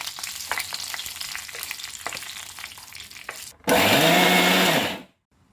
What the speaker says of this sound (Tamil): மிக்ஸி ஜாரில் தேங்காய் பூ போட்டுக்கோங்க.